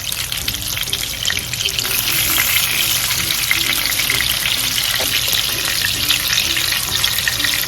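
Chicken garlic bites shallow-fry in oil as they are turned to brown on all sides, a loud, dense, continuous sizzle up close with no voices.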